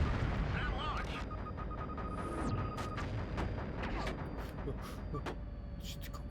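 Gunfire and blasts from a PlayStation demo disc game, repeated sharp shots and booms layered over a constant loud in-game rumble, with an enemy firing back and a voice talking throughout.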